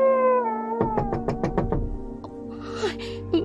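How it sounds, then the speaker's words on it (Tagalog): Knocking on a door at night: a quick, loud run of about seven raps, preceded by a drawn-out wavering wail, with a low rumble and scattered noises afterward. "May kumakatok sa pinto."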